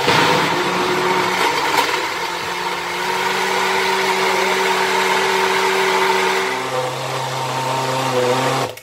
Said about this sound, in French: On va fermer et mixer et puis c'est tout.